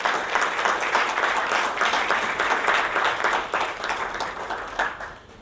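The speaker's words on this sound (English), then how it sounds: "Let's give a big round of applause to Mr. Prabhakar." A roomful of people clapping for a speaker, a dense, even burst of applause that holds steady before thinning out at the close.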